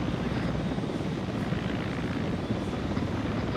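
A video-game helicopter in a military operation mission, its rotor giving a steady, dense, loud drone throughout with no voices over it.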